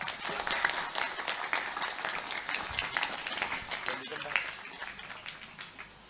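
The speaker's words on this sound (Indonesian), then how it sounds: "Tepuk tangan untuk mereka." Crowd applause at an outdoor Islamic sholawatan gathering in Plumbon, a broad even patter of many hands sustained throughout, fading slightly toward the end.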